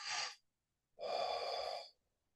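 Deep breathing exercise: a short sharp inhale followed after a pause by a longer, fuller breath, both close and clear with nothing else around.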